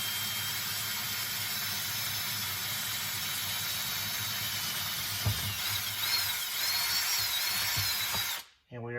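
Power drill boring through the floor of a car trunk, a steady high whine held close and loud for several seconds before cutting off abruptly.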